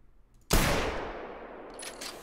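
A single sharp, loud rifle shot in the hunting video game theHunter cracks out at a Dall sheep and decays into a long rumbling echo, followed by faint clinking.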